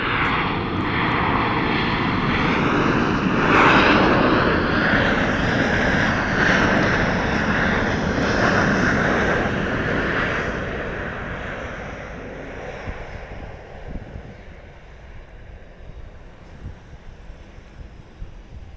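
A Southwest airliner moves at Dallas Love Field at night, its engines giving a loud, broad roar that builds and holds, then fades into a distant rumble with light wind noise.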